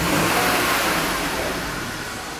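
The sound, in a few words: car engine revving up and down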